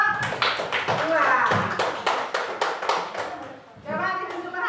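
Clapping for a student group in a classroom session: a handful of sharp, uneven hand claps from a small group, interleaved with voices talking over and between them.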